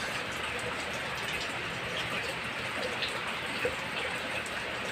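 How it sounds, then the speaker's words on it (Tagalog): Steady rain hisses without a break, a dense even wash of falling drops on surfaces, with no other sounds standing out. "Ito kami, umuulan na rin sa amin"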